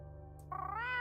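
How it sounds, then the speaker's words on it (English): After a brief quiet moment, a small kitten lets out one rising, drawn-out meow, close and clear, with nothing else audible. "you can hear a little kitty's voice."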